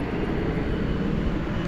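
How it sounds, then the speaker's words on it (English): A big Qatar Airways jet passing over a bridge at DFW Airport at night, a steady broad engine roar that holds loud and even throughout, with no talking. "get a final look at that big Qatar plane going over the bridge"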